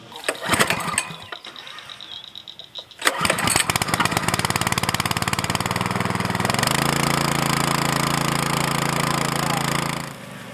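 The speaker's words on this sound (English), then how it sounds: "So let me get some fuel in the pump, we'll get this thing going." A gas-powered trash pump engine starts with sputtering cranking, catches and settles into a loud, steady running drone that drops in pitch midway and then fades near the end.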